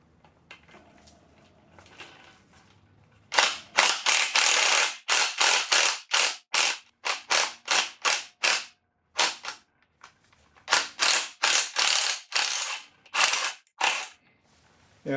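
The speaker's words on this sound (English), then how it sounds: "I switched to my small impact" A small impact wrench fitted with an 11 mm 12-point socket hammers on a bolt in the engine block of a 2008 Acura MDX, firing in loud, close bursts of varying length separated by short pauses.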